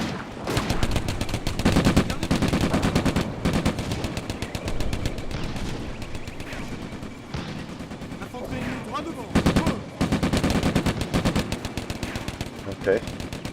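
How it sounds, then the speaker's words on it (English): Machine gun fire from the video game Combat Mission: Afrika Korps, dense rapid bursts of automatic gunfire with brief pauses, loud and continuous, with a voice talking over parts of it. "Another machine gun."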